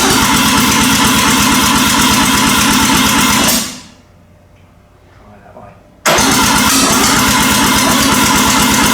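Mazda RX7 with a 12a rotary engine cranks and fires loudly at close range, running hard for a few seconds, cutting out briefly to near silence, then roaring back to a steady, buzzy idle.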